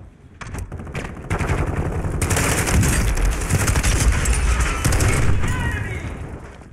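Rapid automatic gunfire rattles in a Warzone match on Ashika Island, long dense bursts of close, loud shots building over several seconds, with a player's voice talking underneath.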